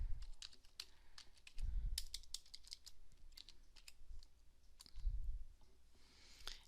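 Keys clatter on a computer keyboard while Python code is typed at the prompt, a brisk run of sharp clicks with a few louder thumps, close and alone, with no voices.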